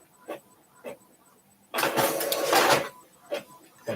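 A sublimation printer prints with a burst of mechanical whirring and clatter lasting about a second, framed by short faint clicks and knocks before and after.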